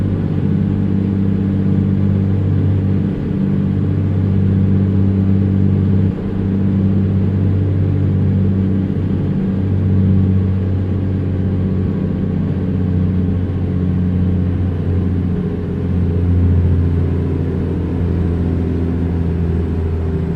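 An old-school Peterbilt truck rated at 150 hp, hauling a 57,000 lb load, drones with a low, steady engine rumble that stays loud and continuous throughout, heard from inside the cab with no talking.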